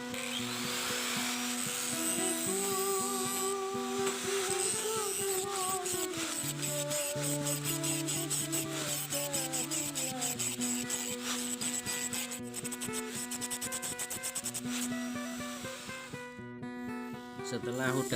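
A new file rasps back and forth along a hand-forged golok machete blade to flatten and thin it. The file strokes come in quick repeated scrapes, partly under a tonal, music-like background.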